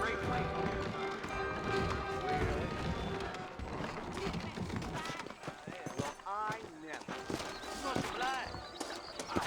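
Horse hooves clip-clop in the Western video game Red Dead Redemption as saddled horses move out front, steady irregular thuds under music and talking voices throughout.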